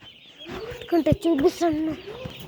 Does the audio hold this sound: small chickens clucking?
yes